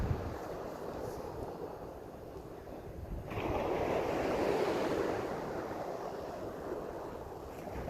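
Ocean surf washes onto a beach in a steady broadband roar that swells louder around the middle and then settles, mixed with wind buffeting the microphone. No one speaks.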